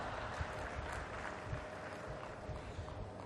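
Audience applause at a speech by Prime Minister Modi on India's semiconductor ambitions: dense, steady clapping from a large crowd that fills the whole stretch at an even level, with no voices over it.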